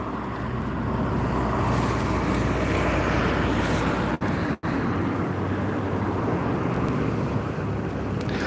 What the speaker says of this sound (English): The exhaust on that wanker's car sounds awful.